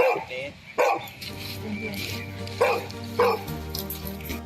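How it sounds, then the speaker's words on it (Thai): A search-and-rescue dog in a disaster search zone gives three or four sharp barks spaced a second or two apart, fairly close, over a steady tonal background hum. "เสียงเห่า เสียงที่ทุกคนเฝ้ารอฟัง"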